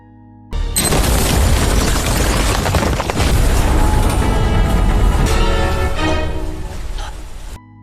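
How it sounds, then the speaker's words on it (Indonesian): A golden statue blown up by a detonator in an action film: a loud, roaring blast that rumbles and crackles continuously for about seven seconds before cutting off. "Pria itu berhasil merebut detonator dan meledakkan patung emas yang diyakini menyimpan rahasia harta karun"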